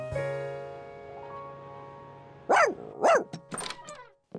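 A dachshund gives two loud, close barks over a background of sustained musical tones, followed by a few shorter yaps and clatters.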